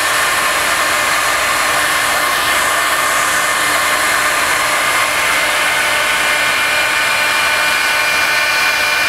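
An Edge Finisher EF-200 machine runs a stack of plexiglass pieces, giving a steady, loud, broadband whirring roar that holds evenly for the whole stretch with no talking.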